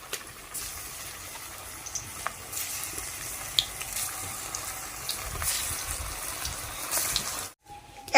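Jackfruit koftas are dropped one by one into smoking hot oil in a kadai, giving a steady close sizzle and bubbling of frying with small pops, ending abruptly.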